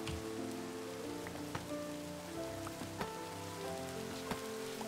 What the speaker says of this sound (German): während wir den schönen Regensounds hier lauschen